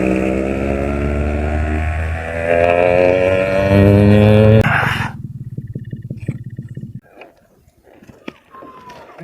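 A Yamaha RX100 motorcycle, about six years old, revs hard and loud up close for several seconds with a raspy, rising engine note, then drops to a quieter, uneven idle with scattered clatter.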